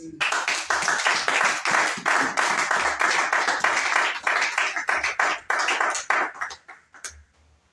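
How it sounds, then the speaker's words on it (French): A church congregation applauds together, dense rapid clapping filling the space for several seconds before thinning out and fading toward the end. "Acclamons d'abord."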